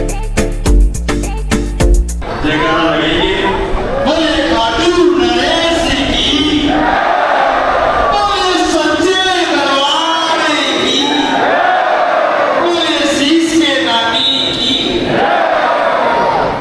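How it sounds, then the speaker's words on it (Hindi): A large crowd of devotees queues at a Hindu temple, filling the space with loud, overlapping voices and calls, after a few sharp knocks at the start. "यहाँ बहुत सारी लाइनें लगी हुई हैं जिसमें श्रद्धालुओं की इतनी भीड़ है कि मैं बता नहीं सकता"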